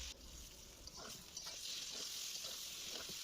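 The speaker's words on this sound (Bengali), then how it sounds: "এদিকে কড়ার মধ্যে অল্প করে তেল দিয়ে শিমটাকে দিয়ে দিলাম।" Flat beans frying with salt and turmeric in a little oil in a wok, giving a steady, close, crackling sizzle that holds throughout, with faint stirring scrapes.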